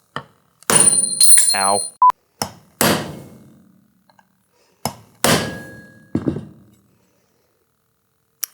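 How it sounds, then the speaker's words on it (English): A hammer strikes bolts on the clutch basket of a Yamaha Tri-Z 250, landing a handful of sharp, loud metallic blows with quiet gaps between them, plus a brief ringing tone and a short exclamation. "Just that little peen there will prevent the bolts from spinning out."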